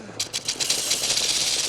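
Harsh, hissing rattle from the Dilophosaurus in the film Jurassic Park, building from a few pulsing bursts into a sustained, dense, buzzing shake that stays loud and close throughout.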